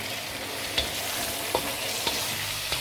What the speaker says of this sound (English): Now mix it all together with the meat sauce.